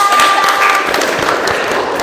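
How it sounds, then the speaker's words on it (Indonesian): A class audience claps for a presenting student group, a short burst of brisk, close clapping with a brief tonal whine early on. "tepuk tangan untuk kelompok"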